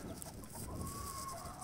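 Chickens clucking softly nearby, a steady low murmur of hen calls with a faint higher tone running through the middle.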